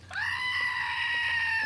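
A toy screaming goat lets out one long, loud, harsh bleating scream that holds steady for over a second, close and alone, with a faint hum underneath.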